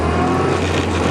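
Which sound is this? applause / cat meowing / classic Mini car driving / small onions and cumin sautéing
classic Mini car driving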